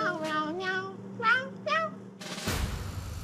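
A person imitates a cat with several drawn-out, pitch-bending meows, followed by a burst of noisy sound.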